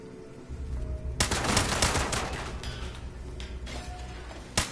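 Automated turrets in the video game Fallout 76 open fire in a sustained rapid stream of shots, loud and steady for several seconds, then trail off into scattered bursts.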